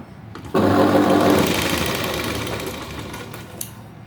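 A sewing machine stitching blouse fabric strips together runs in one continuous loud whirring burst, starting abruptly after a brief pause and fading slightly toward the end, with no voices.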